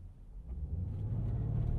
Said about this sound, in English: a little bit of burble there from the exhaust